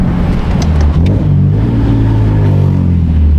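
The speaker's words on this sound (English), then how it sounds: "Now we're going to have to get used to downshifting like that." Engine of a widebody BMW E46 revving as it downshifts, a loud close throaty rumble that climbs and then settles, with no talk over it.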